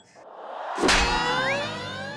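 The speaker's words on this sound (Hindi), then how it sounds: "घंटी बजा के" A single bell struck once, a sharp metallic clang that rings on with a long bright decaying tone.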